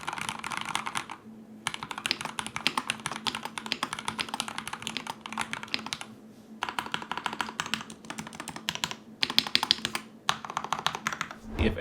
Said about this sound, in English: Here's a quick sound test so you guys can hear exactly how the MaxFit81 sounds.